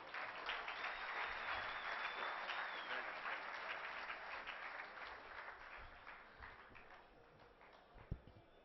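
Audience applause at an awards ceremony on stage, a dense sustained wash of clapping that gradually thins toward the end, with a single sharp knock near the close.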